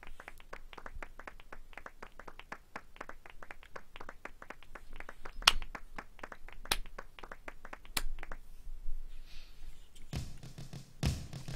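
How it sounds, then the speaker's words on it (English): Steady, evenly spaced hand claps in a slow rhythm carry on for most of the stretch, fairly close and moderately quiet, with a few sharper louder claps and a noisier burst at the end. "He slow claps."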